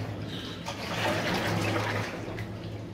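Water and debris knock and splash against the bottom of a canoe in an underground tunnel beneath an ancient city, a steady close watery wash with low hollow rumbling and no talk.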